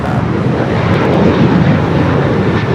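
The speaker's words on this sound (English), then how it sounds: "737-800 with American now rolling down 25 at right" An American Airlines Boeing 737-800 rolls down runway 25 Right at LAX, its jet engines producing a loud, continuous broadband roar throughout.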